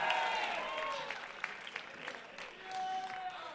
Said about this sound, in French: Merci Antoine, on l'applaudit.